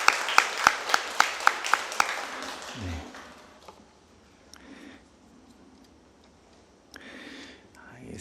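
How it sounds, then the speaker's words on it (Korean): A church congregation at a Namdaemun Church peace prayer service gives a short burst of applause over a steady, regular ticking, and the clapping fades away after about two seconds into near quiet. "우리 뜨거운 박수로 한번 격려하겠습니다"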